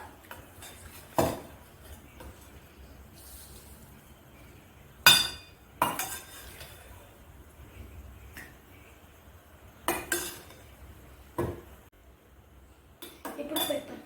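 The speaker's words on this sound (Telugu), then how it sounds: "ఇప్పుడు నేను కర్డ్ వేస్తా." A spoon clinks against a bowl while curd is added to beetroot salad: a handful of sharp, separate metallic taps spread over quiet stretches, close to the listener.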